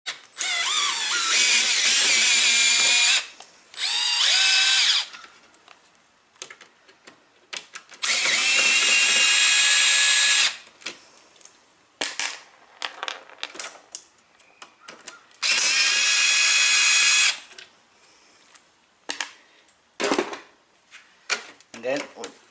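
Close power drill bursts back out screws on a Lexus GX460 side mirror, several whirring runs of a few seconds each separated by pauses, with clicks and handling noises between them.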